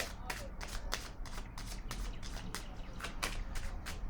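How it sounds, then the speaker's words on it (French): Tarot cards being handled and set down on a table, a run of quick papery flicks and slaps repeating steadily at close range, with a faint voice in the background. "Je vais déposer une carte."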